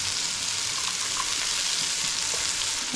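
Vegetables and green chickpeas for a Nepalese masala pasta fry in a pan with a steady, dense sizzle heard close up, continuous and fairly loud throughout.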